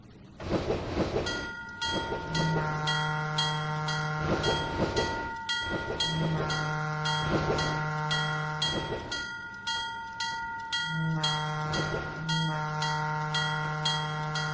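A train in the video game Trainz 2019 rumbles along with rhythmic clatter while a long horn sounds in repeated blasts, loud and close, no talking.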